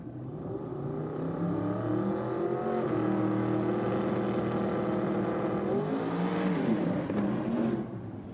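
A 511-cubic-inch twin-turbo Hemi drag ute, the Black Ute, roars loud and steady through a full pass, its engine note climbing and shifting pitch before cutting off abruptly at the end.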